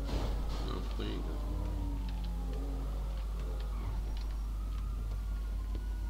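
A police siren wails in Grand Theft Auto V, its pitch sweeping up and down in long swells over a loud low engine rumble, with a voice speaking over it.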